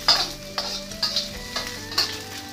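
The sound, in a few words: salted fish being stir-fried and stirred in oil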